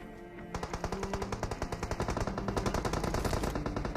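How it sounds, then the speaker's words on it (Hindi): Gunfight near Squad House in PUBG on the Erangel map, rapid automatic weapon fire in dense, rhythmic bursts, loud and continuous with overlapping shots. "तभी स्क्वाड हाउस की तरफ से गन फाइट के साउंड आए"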